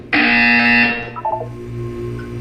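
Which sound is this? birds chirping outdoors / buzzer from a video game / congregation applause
buzzer from a video game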